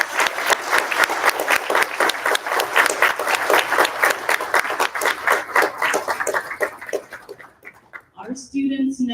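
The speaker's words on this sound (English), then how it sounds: "Can we please give a round of applause for our amazing students?" A crowd at a Democratic primary candidate forum applauds students with strong, rhythmic clapping that swells and then thins out toward the end, where a voice briefly comes in near the microphone.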